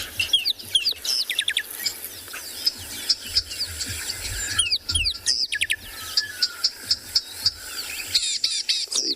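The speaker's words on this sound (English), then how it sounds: "I'll try and see if I can find a rattling Systicular call for you quickly, so you can see their normal call" Recorded song of a rattling cisticola played back outdoors at a safari reserve: repeated sharp chirps and dry rattling trills in bursts, fairly loud and close, among other faint bird calls.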